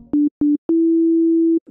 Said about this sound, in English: Right now we have a basic sine wave to start off with.